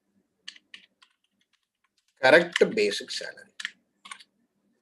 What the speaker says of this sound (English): See how I am typing the program to it.